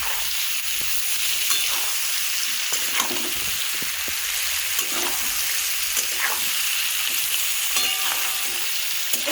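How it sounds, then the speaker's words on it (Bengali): Raw mango pieces for pickle stirred and frying in a pan, a continuous close sizzle with irregular scraping and clinking of the spatula throughout, no voices. "এখন নাড়িয়ে চাড়িয়ে কিছু সময় ধরে এই আমের টুকরোগুলোকে"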